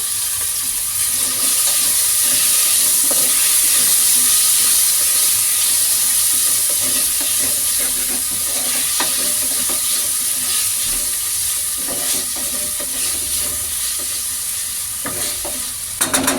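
Tomatoes fry in a pan with turmeric and salt, a steady close sizzle and hiss running throughout while a utensil stirs and scrapes in irregular bursts.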